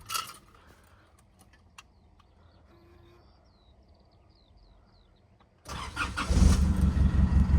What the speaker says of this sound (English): But I'll start it up anyway.